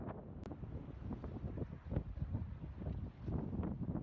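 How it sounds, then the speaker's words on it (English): Strong wind blows at the coast by the lighthouse of Port Nolloth, a steady roaring rush buffeting the microphone with no talking. "The wind's really hard here."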